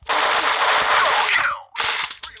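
Video game automatic gunfire, a loud continuous burst that cuts off abruptly, followed after a brief silence by a second shorter burst.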